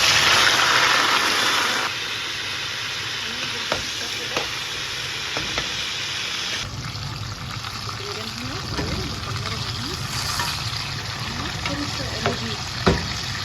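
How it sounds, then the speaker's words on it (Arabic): Eggplant sizzles and fries in hot oil, a steady crackling bed with a few sharp pops and clinks of a utensil, heard close up throughout. "هننزل بيه هنا في الزيت،"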